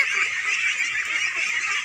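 Ducks at a pond-side farm in Bangladesh keep up a dense, continuous chorus of honking quacks from a large flock, steady and unbroken, with no voices.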